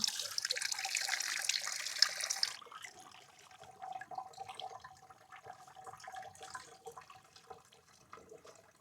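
A weak flow of tap water runs for washing taro stalks and leaves while cooking ginataang gabi, a brief brighter gush at first, then a thinner, quieter trickle continuing alone.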